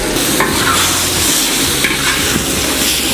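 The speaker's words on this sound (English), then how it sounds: "So then we'll take the pork. Oh, you hear that nice sizzle?" Steady, loud sizzling of pork frying in a hot pan, with occasional stirring scrapes and no talking.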